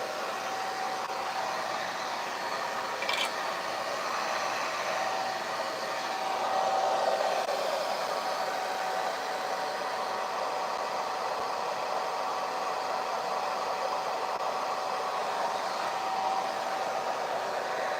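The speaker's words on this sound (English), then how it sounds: "I never used to use the diffuser, but I absolutely love the diffuser now." A hair dryer fitted with a diffuser attachment blows a steady, close, continuous whoosh while drying hair, with little change in level throughout.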